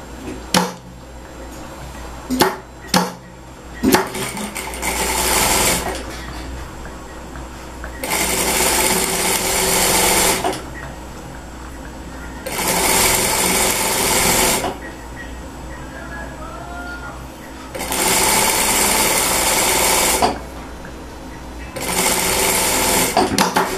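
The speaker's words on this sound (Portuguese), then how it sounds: "eu vou passar uma costura pé de máquina aqui direto" Sewing machine stitching a straight seam with fabric pieces placed right sides together for a romantic placemat, running in several loud bursts with pauses between, after a few sharp handling clicks, close by.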